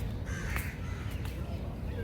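Crows cawing outdoors in a calm, scenic garden setting, a few sharp caws rising over a low steady background hum, moderately distant.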